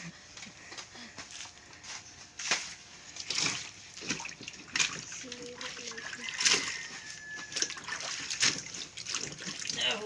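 Harvested produce being washed in water in an improvised container, heard as close splashing, sloshing and trickling with occasional knocks, while people talk under it.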